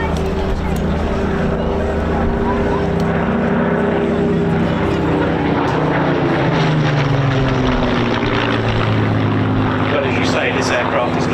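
A Hawker Hurricane fighter in a wartime night-fighter scheme drones overhead at an airshow, its piston engine a loud, sustained roar with shifting pitch as it passes, under an announcer's voice.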